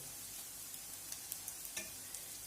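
Tertiushky, grated potato pancakes, fry in a little oil with a faint, even hiss, broken by a few soft pops and light scraping clicks, quiet and without speech.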